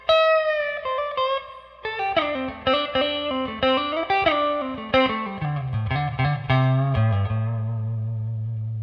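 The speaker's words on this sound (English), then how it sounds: "a reverb tank with springs, and the sound reverberates through those springs" An electric guitar through a spring reverb tank plays a descending run of notes, each ringing out with a splashy, echoing reverb tail, ending on a sustained low note.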